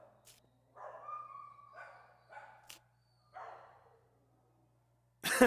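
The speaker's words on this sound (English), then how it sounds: "Abby, these little pit bull puppies have had a rough life." Pit bull puppies barking in a run of short, separate yaps and yips, close and fairly clear against a quiet background, with a sharp louder burst at the end.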